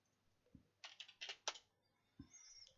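Keys on a computer keyboard clack in a quick burst of several taps, then a couple of isolated presses, close and quiet in a still room.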